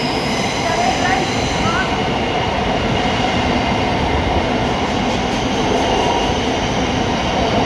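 A Class 700 electric train runs past at the low-level platforms of London St Pancras, a loud steady rumble of wheels and traction noise with faint squeals, heard close and continuous throughout.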